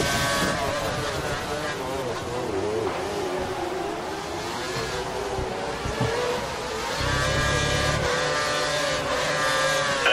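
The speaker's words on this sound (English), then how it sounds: "He's running full revs, maximum power." A race car engine in a racing video game at Suzuka screams at full revs. Its high, whining drone stays loud and continuous, and the pitch wavers and climbs as the car pushes on.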